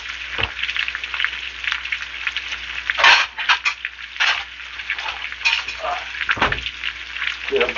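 Patty melt frying on a griddle with onions, garlic, sazón, burger, bacon and grilled cheese, giving a steady close sizzle with bursts of scraping and clatter, no talking.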